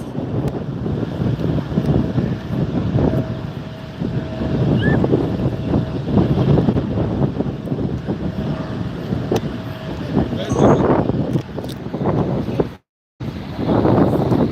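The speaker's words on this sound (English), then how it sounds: "And now you know how loud the engines are too." Jet engines roar at LAX airport, heard close up from a parking lot, as a loud, steady, broadband rumble that continues for the whole stretch, with wind buffeting the microphone and a brief dropout near the end.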